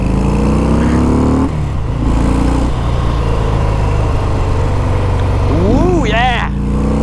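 A Harley-Davidson FXDR motorcycle engine roars loudly and steadily as it pulls through the gears, with a brief dip at a shift and rising pitch sweeps near the end, heard close by under a talking voice.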